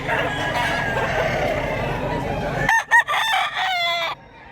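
Several gamecocks at a rooster breeding farm in Mantalungon, Cebu crow and cluck, a dense layered din of birds that gives way to a few loud, close, clearly separated crows near the end.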